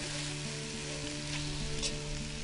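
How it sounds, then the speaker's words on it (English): Continuous hissing sizzle of onions and pork rashers frying in a hot pot, steady and close, with a low mechanical hum underneath. "Pot's heated up, onions sizzling, spot on."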